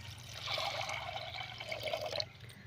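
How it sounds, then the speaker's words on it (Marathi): Water pours and trickles into a pot of black-masala pea curry cooking on a village wood-fired stove, a steady close liquid rush lasting a couple of seconds over a low rumbling background. "आता पाणी टाकून घेऊया आपण"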